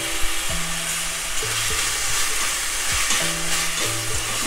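Loud, continuous sizzling of fresh herbs and vegetables frying in hot oil in a pan, with occasional scraping and stirring sounds against the pan, no talking.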